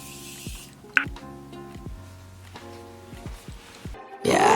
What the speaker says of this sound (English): And one last spray from my Morphe spray.